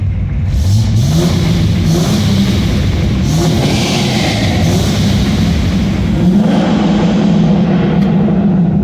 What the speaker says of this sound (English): Supposed to give it a rev here.